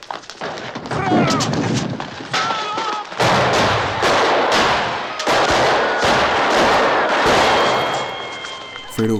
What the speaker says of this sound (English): Fredo watches his father get shot down in front of him